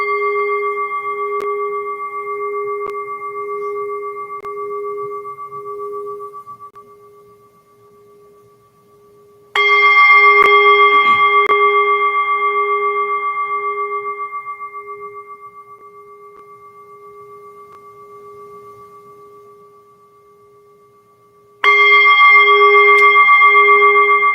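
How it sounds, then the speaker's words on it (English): A meditation bell at a monthly gathering rings three times, each strike bright and resonant with a long humming sustain that slowly fades to near silence before the next, and no voices. "listen to the sound of the bell to calm yourself"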